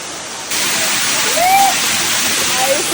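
Kanto Lampu waterfall in Bali pours as a loud, continuous rushing roar, close and steady, with brief voices and faint whistle-like tones drifting over it.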